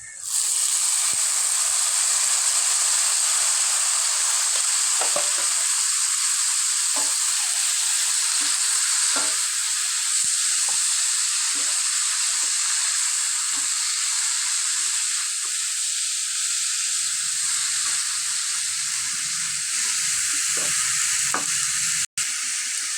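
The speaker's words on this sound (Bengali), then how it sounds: "আমি এখন বাঁধাকপি দিয়ে দিচ্ছি" Cabbage stir-fries in a hot pan with green chilies, giving a loud, steady sizzle and hiss that runs the whole time, broken by soft scrapes of stirring and no talk.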